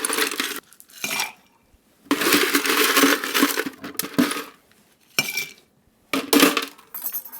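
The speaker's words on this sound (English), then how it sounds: "Next, we're just going to ice these." Ice cubes clatter and clink into cocktail glasses at a home bar, in several separate bursts of scooping and dropping with short silences between them, close and fairly crisp.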